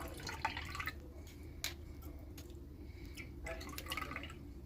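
Blended amla juice with ginger, coriander and green chilli is strained, giving faint, scattered drips and small liquid splashes over a low steady background hum.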